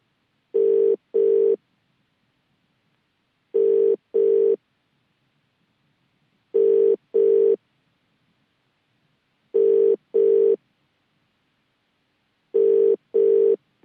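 A telephone ringback tone on a call to a district collector repeats five times, each a pair of short identical beeps, loud and clean against silence with regular gaps of about three seconds.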